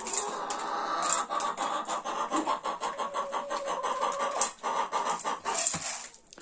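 An Adler Silver rooster calling to young hens in a poultry yard, giving a rapid run of close, throaty clucks and scratchy calls that pulse in an uneven rhythm for several seconds.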